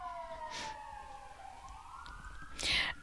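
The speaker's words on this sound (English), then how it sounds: "There's a siren going by my house right now." An emergency vehicle siren wails past outside a house, its rising and falling tone fairly faint and distant, with a couple of brief nearby noises breaking in.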